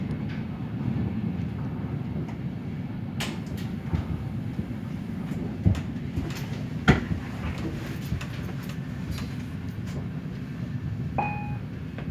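IC 23 intercity passenger train running from Kempele to Oulu, steady low rumble of wheels on rails heard from inside the carriage, with occasional clicks and a faint chime near the end.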